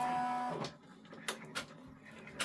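An embroidery machine sews the placement stitch for an appliqué on a freestanding quilt-block pumpkin: a brief whirring motor hum, then a few sharp, spaced mechanical clicks and taps, close and fairly quiet.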